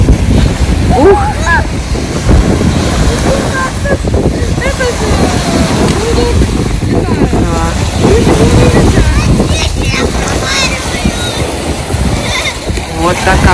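Strong wind buffeting the microphone by the shore of a bay at high tide, with water moving nearby and people talking over the gusts.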